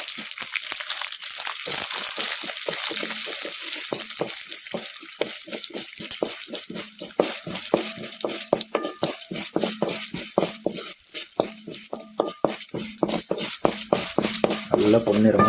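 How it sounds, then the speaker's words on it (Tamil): Fenugreek, urad dal, cumin, chana dal and toor dal dry-roasting in a pan, a dense run of rapid crackling taps and light scraping as the lentils and seeds are stirred, fairly close and unaccompanied. "அப்படியே பொன்னிறமாக வர அளவுக்கு வறுக்கணும்."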